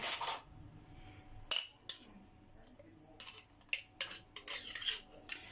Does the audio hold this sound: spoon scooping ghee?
yes